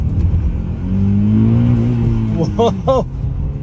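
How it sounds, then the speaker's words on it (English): A Honda car engine drones loudly and rises as it revs up. A voice shouts an exclamation near the end, over the engine. "Let's see what this car sounds like."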